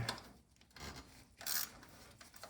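Close, faint rasping and rubbing as an oil filter adapter grips and twists loose the oil filter on a 1998-2002 Toyota Corolla, in short uneven scrapes with a louder burst midway.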